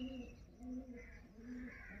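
Teddy pigeons coo nearby in a steady repeating pattern of soft, low calls, about three coos over two seconds against quiet background noise.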